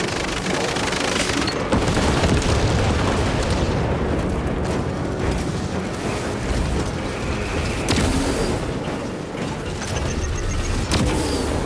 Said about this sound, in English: Throwing melting bombs.